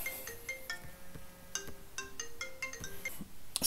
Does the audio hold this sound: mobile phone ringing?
yes